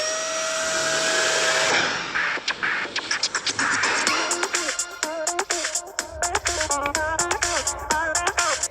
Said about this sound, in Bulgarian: Една прахосмукачка за простачка.